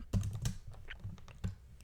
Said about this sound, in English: I can just start typing the R code.